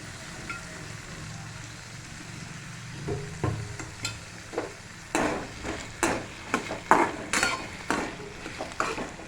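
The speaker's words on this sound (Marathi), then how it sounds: "बटाटा टाकून घेतला आहे आणि थोडंसं मीठ टाकते बटाटे शिजायला" Potatoes frying and being stirred in a pan for sabudana khichdi, soft sizzle under repeated scraping strokes of a spoon that grow louder and more rhythmic in the second half.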